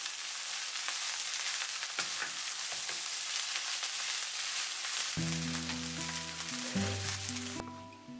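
Soy sauce fried rice with green onion and pepper stir-fried in a pan, a steady close sizzle with light scraping, then background music coming in over it near the end.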